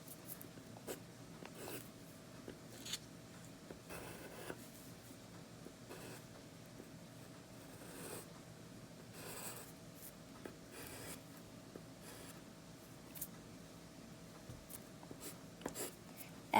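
A pencil draws a bird's branch on paper, producing faint scratchy strokes in short repeated bursts against a quiet room background.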